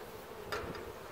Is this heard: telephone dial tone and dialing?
no